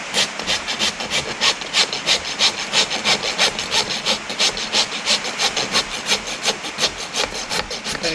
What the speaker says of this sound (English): I'm not gonna do anything except for take the rasp to it.